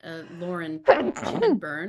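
A single sharp sneeze bursts out between stretches of spoken commentary, brief and close.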